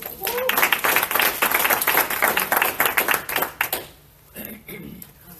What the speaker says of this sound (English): With a rousing applause, let's welcome Donna Evans.